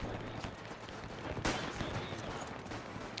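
Gunfire from an AI-controlled soldier in the WW1 game Between Empires: a steady dense crackle of shots with one sharp louder burst partway through, no talk.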